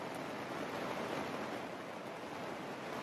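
Rain falling on a Kodiak Canvas 12x9 cabin tent during a storm makes a steady, soft, even hiss across the whole stretch, faint and unbroken, with no voices.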